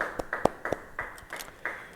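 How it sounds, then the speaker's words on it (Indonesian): A church congregation at a Bible study claps hands for God in scattered, uneven bursts, a handful of close sharp claps and softer ones spread over a couple of seconds rather than full applause. "Yang setuju beri tepuk tangan bagi Tuhan."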